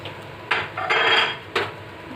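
Whole spices for a chicken and pumpkin curry, cumin, cardamom, black pepper and a cinnamon stick, tipped into a pot, giving two sharp close clinks with a brief rattling scatter between them and no voices.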